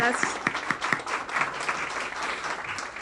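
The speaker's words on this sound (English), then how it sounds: "let's give him another round of applause" Audience applause at a Black History Month event in a hospital system's gathering, steady clapping with a voice speaking over it and a few louder individual claps standing out.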